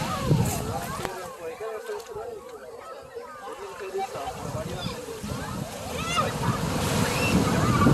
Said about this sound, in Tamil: தண்ணி அலை சின்ன அலை வந்து அப்படியே அடித்து கொண்டு போக